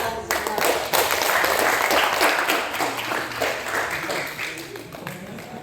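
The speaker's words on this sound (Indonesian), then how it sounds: "Tepuk tangan." An audience at a financial intelligence and cashflow management seminar breaks into lively applause, a dense, fairly loud clatter of many hands that gradually thins out, with some voices mixed in.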